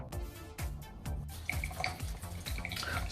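A Gillette MACH3 Turbo razor is rinsed under running water, with splashing and dripping from a tap and several knocks against the sink, close and moderately loud with no speech.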